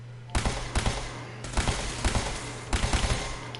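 Bursts of weapon fire in Fallout 4, three clusters of rapid sharp shots over a steady low background hum, fairly loud and close.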